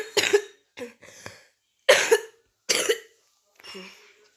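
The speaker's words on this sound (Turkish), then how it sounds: "öksürük geldi" A person coughs repeatedly in short, harsh bursts, five or six spaced coughs close to the microphone with silence between.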